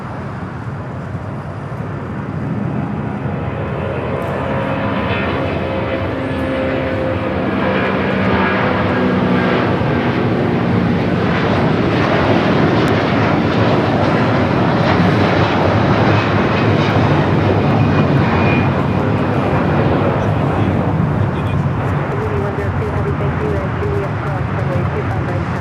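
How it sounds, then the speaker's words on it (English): A Hawaiian Airlines Airbus A330 takes off from runway 25 right at LAX, its jet engines swelling into a loud, sustained roar that holds strong for the whole run, with voices talking over it. "Got a Hawaiian A330 now rolling down at 25 right."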